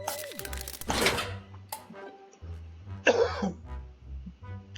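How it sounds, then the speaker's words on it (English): Two bursts of harsh coughing, the first at about one second and the second near three seconds, close to the mic, with quiet room noise in between. "I'm sorry if I'm coughing through this"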